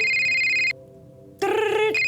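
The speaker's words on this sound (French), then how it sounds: "Vous entendez donc une sonnerie qui vient de l'ordinateur qui émet une lumière." Computer ringtone sound effect in a tabletop role-playing game session: a loud electronic tone rings, breaks off briefly into near silence, then resumes with a bright warbling chime, close and clear with no talking.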